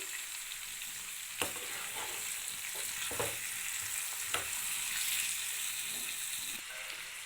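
Sliced radish fries steadily in a pan, a continuous sizzle broken by a few sharp scraping clicks as it is stirred.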